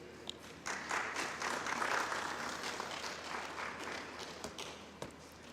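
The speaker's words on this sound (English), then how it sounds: "Let's give him another round of applause" An audience at a Grenada ICT Week tech forum breaks into applause after a short pause, the crowded clapping swelling quickly, holding steady, then thinning toward the end with a few scattered taps.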